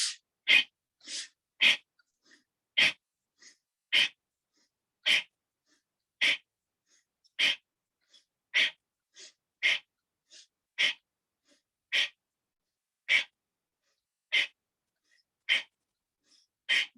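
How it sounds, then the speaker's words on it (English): Fast, forceful yoga breaths, likely Bhastrika-style pranayama, repeat as about twenty short sharp bursts at a steady rhythm over a quiet background, each one close and distinct, with no talking. "So you breathe in and out."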